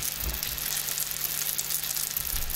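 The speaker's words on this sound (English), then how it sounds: "Now put some oil into a frying pan and heat it up, then add in your potato cakes." Potato cakes frying in hot oil in a frying pan give a steady, close sizzle with dense crackle, continuous throughout with no talking.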